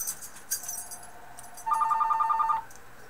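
A telephone rings in one bright burst of rapid electronic trills, close and clear, following softer clicks and handling noises in a quiet indoor space.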